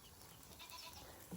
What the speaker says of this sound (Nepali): बाख्राहरू